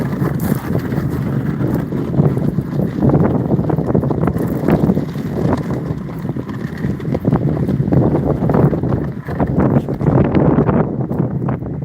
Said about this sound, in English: somehow even windier down here